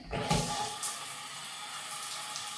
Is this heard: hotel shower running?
yes